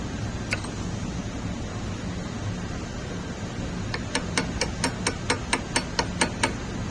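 Slag being chipped off a cast iron weld gives a quick run of sharp metallic taps, about a dozen evenly spaced, over a steady background hum.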